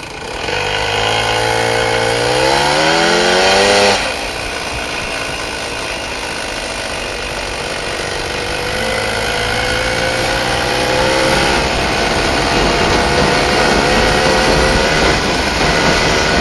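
Small red motorcycle ridden at night, its engine droning loud and steady throughout, with a rising rev in the first few seconds, a gear change, then a rougher, rumbling run with shifting pitch.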